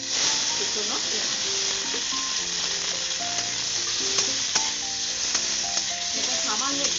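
Chopped onion, bay leaf and black cumin sizzling in hot oil, a constant crackling hiss with scattered pops and stirring clatter, close and fairly loud.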